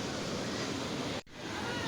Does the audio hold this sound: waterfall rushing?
yes